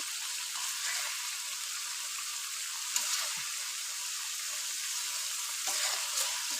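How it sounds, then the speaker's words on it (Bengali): Spice masala paste for a rohu fish curry frying in oil, a steady bright sizzle throughout with occasional soft stirring scrapes. "মশলা থেকে তেল ছেড়ে দিচ্ছে"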